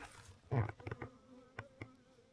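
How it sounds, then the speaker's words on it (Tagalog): Bees buzz close by around a lanzones tree at harvest, with a brief loud burst followed by several short droning passes and faint clicks. "Ang dami pong bubuyog pa"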